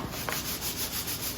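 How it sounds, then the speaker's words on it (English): Sandpaper rubs by hand across a waxed wooden top in steady back-and-forth strokes, a soft, even, close scratching hiss with a regular rhythm. "It feels like I'm sanding with nothing. Just a piece of paper."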